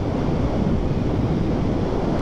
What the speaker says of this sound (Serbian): Evo ga more!